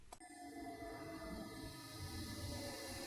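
A London DLR light-rail train running between Island Gardens and All Saints, with a steady low rumble and tonal motor whine after a brief initial click, loud and continuous.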